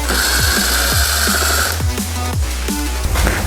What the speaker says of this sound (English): we're going to go ahead and remove this bolt that's holding down the seat